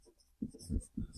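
Chalk or marker scratches across a board as a chemistry definition about solutions is written out, a few short quiet strokes in quick succession with no talk.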